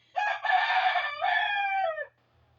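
A neighbours' rooster crows once from just outside a house. The cock-a-doodle-doo is loud and clear, about two seconds long, with a short break partway through, heard alone.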